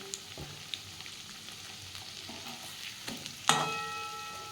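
Leftover cooked-rice pakoras fry in hot oil with a steady, close crackling sizzle. A sharp metallic clatter lands near the end, followed by brighter hissing.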